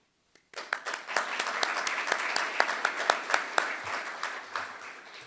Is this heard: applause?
yes